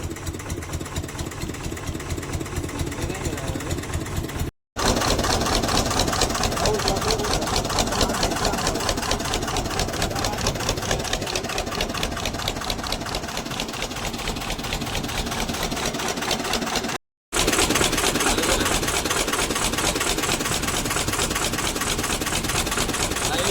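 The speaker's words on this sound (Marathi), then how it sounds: "तुम्हाला बोट चालू बोट" A fishing boat's engine running loud and near for a long stretch, a steady, even chugging drone, broken only by two brief dropouts in the sound.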